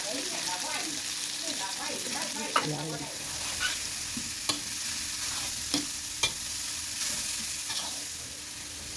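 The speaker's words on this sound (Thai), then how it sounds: "ก็เอา น้ำพริกหมูที่เรา ทำเมื่อกี้นะคะ ลงไปผัดค่ะ" Pork chili paste sizzles and crackles as it is stir-fried in a hot pan, with occasional sharp scrapes and taps of a utensil against the metal.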